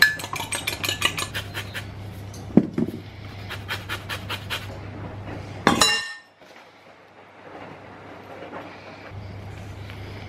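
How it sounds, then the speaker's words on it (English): Egg yolks beaten with a fork in a bowl, rapid rhythmic metallic clinking in quick bursts, then a louder clatter and near quiet with faint background hum. "So next I need to beat the egg yolks together. I'm just using a fork."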